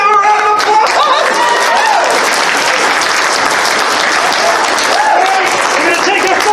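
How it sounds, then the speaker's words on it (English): An audience at a live comedy improv show gives loud, sustained applause, a dense wash of clapping that continues without a break. "Give a round of applause!"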